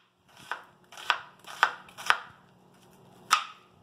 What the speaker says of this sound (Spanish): El cuarto de cebolla lo cortamos así fileteado